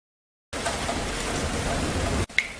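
Heavy rain pours down outside, a dense steady hiss that starts abruptly and keeps going, then cuts off, and one short sharp sound follows.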